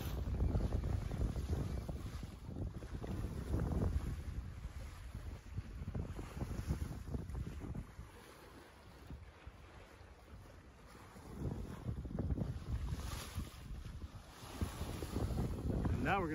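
Sailboat close hauled upwind in light wind of about 7–8 knots with a code zero sail set: steady wind rush and water swishing along the hull, swelling and easing, with no talk.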